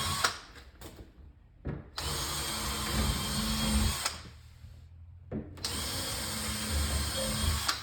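Power drill driving three screws into a Pac-Man arcade cabinet, heard as loud whirring bursts of a few seconds each with short pauses between.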